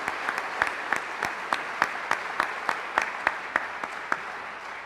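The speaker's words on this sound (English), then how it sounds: "Let's give the entire group another round of applause." A live audience applauds a group at a school excellence celebration, a steady wash of many clapping hands with regular sharp claps throughout, moderately close and with no talking over it.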